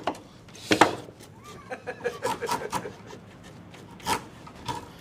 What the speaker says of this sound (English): it's a little nicer to form them with a chisel